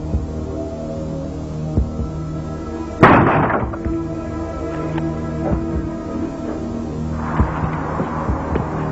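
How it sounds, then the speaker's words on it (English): A single heavy bang at a house door strikes sharply and loudly, then decays under a low droning hum with a softer rumble later on. "The bang at the door was immense."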